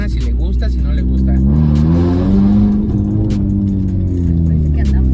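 Modified car accelerating with a deep, steady engine drone that rises in pitch, heard from inside the cabin, with people talking over it.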